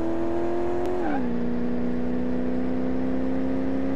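A Golf MK1 fitted with a Mercedes-Benz engine holds a steady, loud engine note in Car Mechanic Simulator, shifting to a lower pitch after about a second, then droning on evenly at speed.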